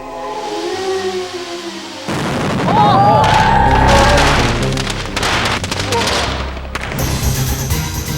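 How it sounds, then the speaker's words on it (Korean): A sudden loud boom from concrete exploding at an outdoor lunch party in a TV reenactment, breaking in after a quieter opening and followed by a dense, crackling rush of debris and noise that lingers to the end. "한낮의 폭발."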